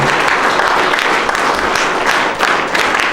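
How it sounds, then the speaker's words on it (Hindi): An audience at a rural junior high school applauds the principal, dense and loud clapping sustained throughout. "एक बार जोरदार तालियां प्रिंसिपल सर के लिए।"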